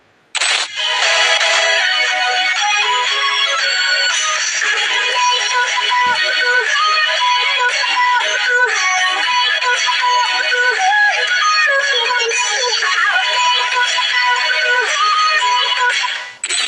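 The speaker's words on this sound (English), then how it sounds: "the front-firing dual stereo speakers sound very loud with a lot of bass" Loud, bass-heavy audio plays continuously from the front-firing dual stereo speakers of an Asus ROG Phone 6 gaming phone, a dense, full sound that runs almost unbroken for about sixteen seconds with no talking over it.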